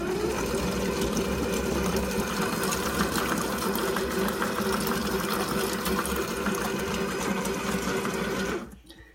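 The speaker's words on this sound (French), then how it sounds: "On va mixer nos tomates." A Companion food processor blends tomatoes for a sauce at speed 7, a loud, steady motor whir and churn that runs continuously for about eight seconds and then cuts off.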